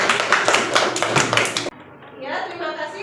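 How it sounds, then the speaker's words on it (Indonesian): Classroom clapping for a student, a handful of distinct rhythmic claps close by that stop abruptly midway, followed by a voice speaking. "tepuk tangan untuk Ananda Dini"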